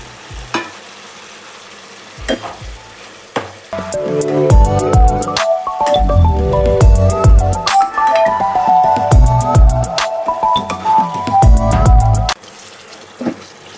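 Paneer cubes going into tomato gravy in a pan, with loud stirring, scraping and metallic clanks of a spoon against the vessel over a sizzling simmer, ending with quieter bubbling.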